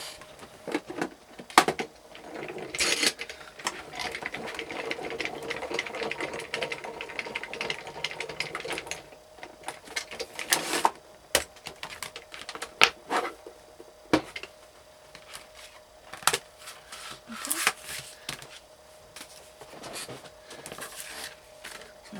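A manual die cut machine, fed with a cutting mat and die for craft stamping, cranks with close rhythmic clicking and grinding, interspersed with sharp taps and handling clatter.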